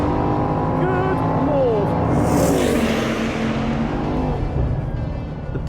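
A Bugatti Bolide's 8.0-litre W16 engine accelerates hard with a loud, rising multi-toned roar and whine, while a man briefly exclaims over it.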